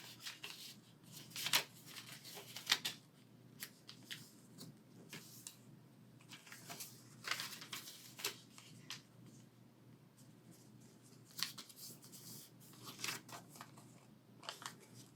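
A square of paper being folded for a journaling project, soft crinkles, creases and sliding rubs in scattered bursts, close and quiet, no talking.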